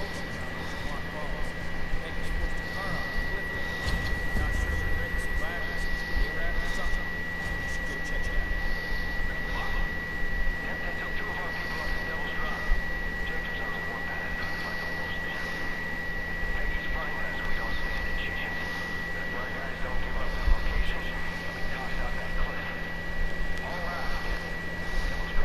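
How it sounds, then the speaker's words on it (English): Steady aircraft engine drone from a plane in Far Cry 5, a constant hum with a high whine running through the whole stretch, with game noises and voices talking over it. "I'm about to take my airplane."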